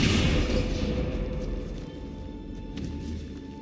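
A Descendo spell cast in Hogwarts Legacy opens with a loud rushing whoosh and low rumble that gradually fades into a softer, lingering magical hum.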